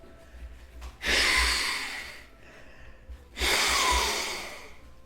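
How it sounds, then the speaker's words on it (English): Two strong, breathy honking blows through the nose, each about a second long, close up with a short pause between them. "What if I blow my nose?"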